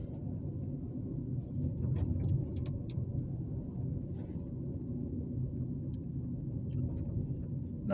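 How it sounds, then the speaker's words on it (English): A car driving through downtown Fairfield, Alabama, heard from inside as a steady low engine and road rumble with a few faint clicks and brief higher noises over it. "I'm just going to just drive you guys through downtown real quick"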